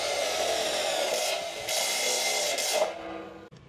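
Power drill whirring steadily as it drives a MATEREE self-drilling screw into light steel, a sustained high-pitched grind that winds down near the end, with no talking.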